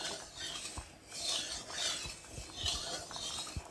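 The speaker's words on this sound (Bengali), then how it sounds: "তেলটা একটু ভালো করে নেড়ে দেবো।" Oil stirred in a hot kadai before frying bhola fish: soft, repeated scraping and swishing strokes of a spoon against the metal pan, steady and close, with no voices.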